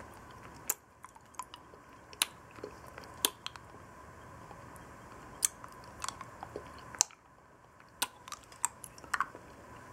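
Close, quiet mouth sounds of someone sucking and eating a Mexican milk caramel lollipop: soft wet clicks and sharp little smacks scattered irregularly over a faint steady background.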